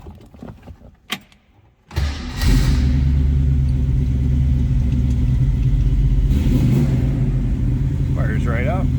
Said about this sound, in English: Let's fire up this 302.